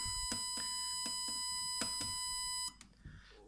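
Keypad beeps from an Arduino home security alarm as a password is entered: about eight short, evenly spaced electronic beeps, fairly faint and alone, ending with a soft click.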